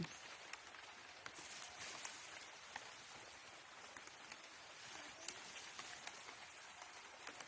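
Steady rain patters on a banana farm, a dense even hiss with occasional louder drops, no voices.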